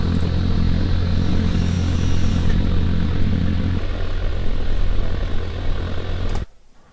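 A UAV drone in the video game ARMA 3 flies with a loud, steady engine drone that holds for about six seconds and then cuts off abruptly.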